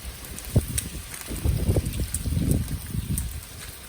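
Gusty wind buffets an outdoor microphone while paella is cooked, with low rumbling bursts rising and falling over a few seconds and faint clinks in the background.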